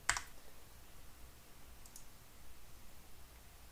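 A single crisp computer mouse click sounds at the very start, then only faint hiss and a soft tick in near silence.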